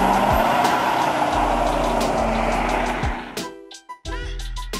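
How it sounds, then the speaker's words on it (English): A diesel pickup truck does a burnout, its engine roaring loudly and steadily with a hissing tire-spin wash for about three seconds before cutting back sharply, followed by a short quieter revving burst. "Epic burnouts."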